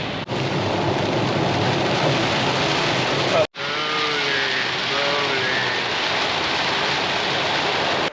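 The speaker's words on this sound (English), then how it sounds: "there's a lot of rain" Heavy rain pours steadily at the start of a hiking trail, a dense, constant hiss with a brief break midway. A faint voice is heard under the downpour.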